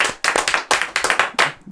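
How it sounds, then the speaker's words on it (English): A short round of applause for a UK rapper, heard as a few people clapping close by in uneven bursts, loud and alone with no talk over it. "Round of applause, yeah."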